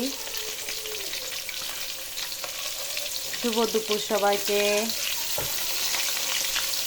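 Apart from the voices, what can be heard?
frying hilsa fish in a pan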